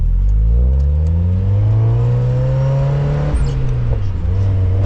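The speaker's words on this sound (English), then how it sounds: "Oh yes, I love the little backfires in between shifts." A Mazda Miata driven with the top down pulls hard through the gears, its engine note climbing loud and close with a brief break and crackle near a shift.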